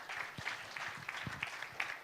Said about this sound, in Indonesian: Tepuk tangan yang kencang buat Tuhan kita yang baik.